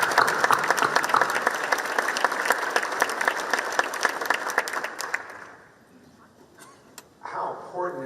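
An audience applauds steadily at a Dothan chamber meeting, a dense roomful of clapping that fades out after about five seconds, followed by a short burst of talk.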